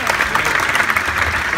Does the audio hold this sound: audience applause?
yes